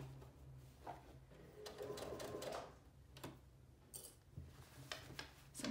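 Sewing machine stitching a coat lining, a steady mechanical whirr in bursts with brief pauses and small handling clicks, fairly close and moderately loud with no talk.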